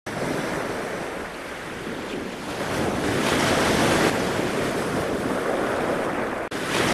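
Ocean waves break and wash continuously on a beach in Puerto Rico, a steady loud roar of surf mixed with wind buffeting the microphone, with no voices.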